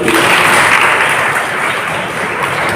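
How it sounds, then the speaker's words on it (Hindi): Students at a government higher secondary school seminar applaud together, a dense, loud burst of clapping that carries on steadily from start to finish without pause. "ताली बजा दो एक बार"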